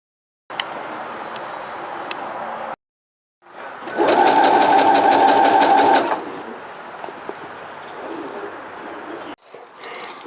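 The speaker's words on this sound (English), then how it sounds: "the machine is powered by a motherboard that talks to the mechanisms of the machine that makes it sew" A computerized serger sewing machine runs loudly at close range for about two seconds in a steady, fast mechanical whir, with quieter machine handling before and after.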